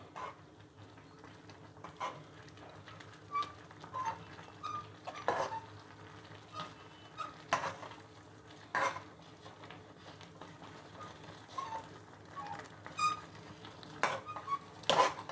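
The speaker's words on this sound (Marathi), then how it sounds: "तांदुळाचं पीठ आता हे सगळं आपण एकत्र करूया" A rice flour mixture is stirred into boiling water in a pot, with soft, irregular scraping and sloshing strokes close by, some sharper clinks, and quiet gaps between them, with no speech.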